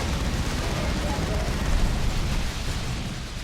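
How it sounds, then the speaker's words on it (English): Terminators in a strategy video game fire an assault cannon, a dense, continuous roar of rapid gunfire and blasts that stays loud and steady throughout, with low rumbling booms. "the Terminators here are moving up, firing that assault cannon right into the middle of that mid pile there"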